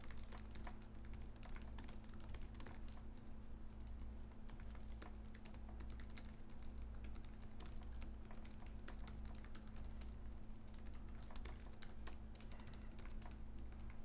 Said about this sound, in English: let me do a quick typing test